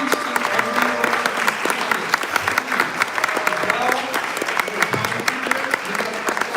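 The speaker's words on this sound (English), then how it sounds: "A huge round of applause for each and every one of" An audience at a Pennsylvania auditor general debate gives a sustained round of applause for the candidates, steady crackling claps with crowd murmur and cheers mixed in, fairly close.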